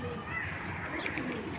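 Racing pigeons cooing softly in a loft, a low steady murmur of bird calls under faint background noise for a brief moment.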